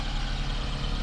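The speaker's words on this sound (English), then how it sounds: "It's just idling noise." A 1989 Honda Today XTI's fuel-injected 550cc engine idles with a steady, low, even rumble, close and continuous throughout.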